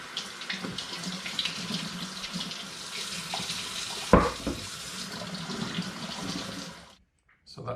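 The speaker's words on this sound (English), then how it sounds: "give the bottles a rinse in case there's any sticky residue on the outside" A tap runs steadily while wine bottles are rinsed beneath it, a close, continuous splashing with a brief clunk near the middle, before the water cuts off into silence.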